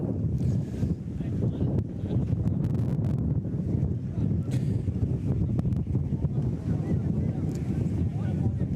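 Steady wind buffets the microphone at an outdoor match between Portugal and Great Britain, a low rumbling roar that runs the whole time. Faint voices sit underneath it.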